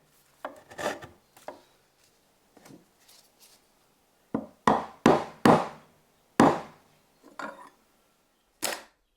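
A chisel pares wood for mortise joinery, making a series of short, dry scraping and shaving strokes, some sharp and close, separated by quiet pauses.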